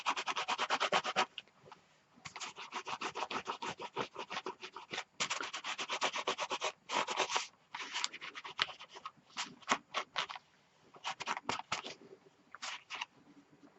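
Crackle paste being spread and thinned across a frame with a baby wipe, giving close, repeated soft rubbing and scraping strokes in uneven bursts with brief pauses, no voices.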